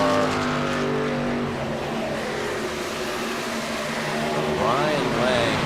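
A race car circles the track during a VSpeed Contender Series race, its engine holding a steady, loud drone throughout and then rising sharply in pitch near the end as it accelerates.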